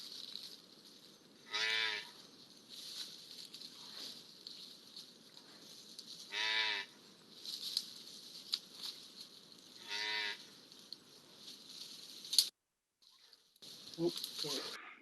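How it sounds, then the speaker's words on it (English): A female cow gives a moo bray, three drawn-out harmonic calls at steady intervals, heard close over a soft buzzing insect background, with a brief short call near the end. "That's the female, that's called a moo bray."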